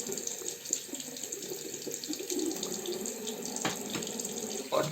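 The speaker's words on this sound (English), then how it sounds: "let me just rinse it off quickly" Tap water runs steadily into a sink as a single-edge razor is rinsed after a shave, a continuous close splashing hiss with a brief louder gush near the end.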